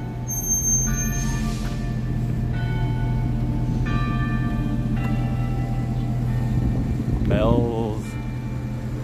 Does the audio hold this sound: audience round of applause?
no